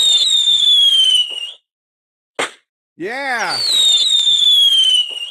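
Loud fireworks go off close by: long squealing, whistling rockets, then a sharp bang followed by more shrieking, crackling bursts, with a voice briefly speaking.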